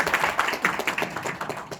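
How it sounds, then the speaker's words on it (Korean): Applause from shareholders at a company's annual general meeting, a dense patter of many hands clapping steadily at moderate volume throughout, with no voices over it. "네, 박수 부탁드립니다."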